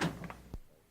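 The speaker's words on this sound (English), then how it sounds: "Holmes got up and opened the door" A door opening in a narrated story scene, heard as a soft rustling handle movement followed by a single short, solid thunk of the latch, with quiet room tone afterward and no voices.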